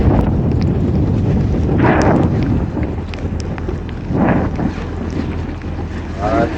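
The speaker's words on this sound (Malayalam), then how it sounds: "നമ്മുടെ ഒരു ബോട്ട് അവിടെ പോകുന്നുണ്ട്." A boat moves along a channel through a rain-soaked mangrove forest, its low steady engine drone and water rush blended with heavy wind buffeting, with swells of splashing at moments.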